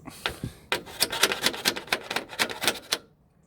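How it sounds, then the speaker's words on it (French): Rapid light taps rattle in a quick irregular run, a small hammer knocking parts of a Somfy roller shutter into place close by for a few seconds before stopping. "il faut juste que je les enfonce un petit peu. Donc je vais prendre mon petit marteau."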